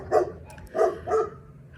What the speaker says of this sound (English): there was a dog growling